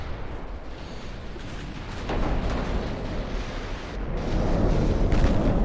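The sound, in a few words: warship secondary guns firing, video game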